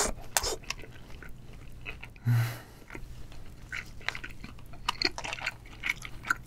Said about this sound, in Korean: 초장 찍어서 먹어볼게요